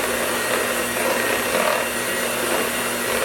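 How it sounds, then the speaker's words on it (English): An electric hand mixer whirs steadily on its lowest speed, blending no-bake pumpkin pie filling in a bowl, with a continuous motor hum and faint scraping of beaters through the mixture, no voices over it. "Again, my mixer, not hers. Lowest speed. I'm just going to mix this all up."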